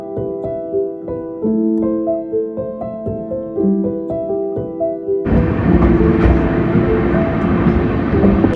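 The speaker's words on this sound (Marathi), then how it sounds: "तर आता ट्रेन बऱ्याच वर्षांनी आता ट्रेननी जातो." A passenger train on its way to Pune, heard from inside. A steady tonal hum gives way to a loud, broadband rumble of the carriage on the rails.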